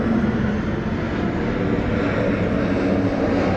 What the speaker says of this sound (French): oh, un avion qui arrive de je sais pas où là